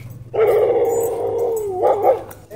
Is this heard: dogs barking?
yes